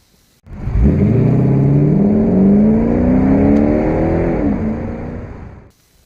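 Porsche 928 S4 with a 5-liter V8 accelerating hard, a loud, close engine note rising steadily in pitch through a long pull, with a brief dip as it shifts near the end, no voices.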